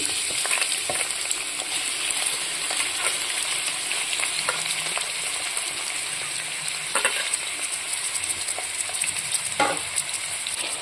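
Chopped onion with bay leaves, cloves and cardamom frying in hot oil for chicken kosha, a steady loud sizzle that runs throughout, broken by a few brief scrapes of a stirring spoon.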